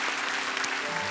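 A church congregation applauds in a dense, steady wash of clapping, loud and sustained across the short moment with no talk over it.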